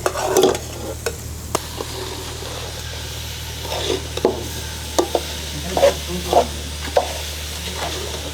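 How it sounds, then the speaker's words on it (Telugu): Ridge gourd pieces go into a hot pan and get stirred and fried, with scraping and stirring strokes over a soft continuous sizzle, several sharper clatters of the utensil against the pan, no talking. "మనం ఇప్పుడైతే బీరకాయలు వేసుకోవాలి"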